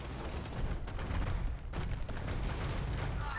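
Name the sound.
bombard cannons firing in Age of Empires 2 video game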